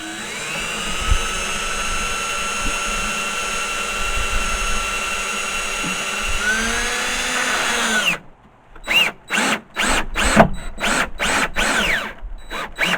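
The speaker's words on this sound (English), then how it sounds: "So I'm going to stick a screw in there." A power drill drives a screw into timber while a stable is being built in hot Spanish weather, whining steadily and loud for about eight seconds before stopping, then several short bursts follow as the screw is finished.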